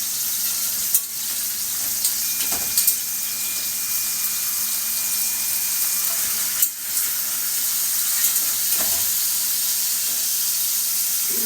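Steak frying in a covered pan gives a continuous, even sizzle from start to finish, broken by a few soft knocks and clicks, with no voices.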